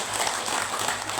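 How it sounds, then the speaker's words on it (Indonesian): An audience breaks into a brief, dense burst of hand clapping during a talk about a pilgrimage to Mecca, steady and moderately loud with no speech over it. "Tepuk tangan dulu."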